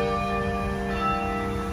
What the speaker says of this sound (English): The bell's still going.